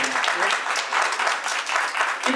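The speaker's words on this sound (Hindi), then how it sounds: "आप जितने भी लोग यहाँ पर उपस्थित हैं, एक बार जोरदार तालियां बजा दें।" A crowd at a Kaveri 2025 stage event claps loudly in a sustained, dense burst of applause that swells and dips in waves.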